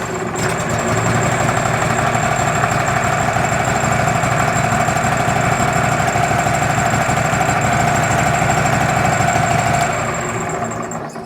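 A Wood-Mizer LT15GO sawmill's engine cranks from cold and catches within a second, then settles into a steady, even idle with a faint high whine, droning alone until it drops away near the end.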